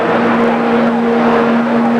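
A super stock pulling tractor engine at a 1985 indoor tractor pull, a loud continuous mechanical roar with a steady hammering drone, heard close and alone.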